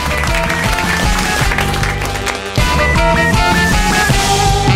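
Studio audience clapping at the close of a French afternoon entertainment radio programme, mixed under a bright jingle of music that runs throughout.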